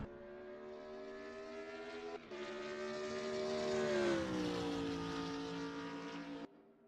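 A BMW Z4 GT3 race car drives in a European GT3 sim race at Vallelunga, its engine a loud, sustained whine that climbs in pitch, dips, then cuts off abruptly, with no voices.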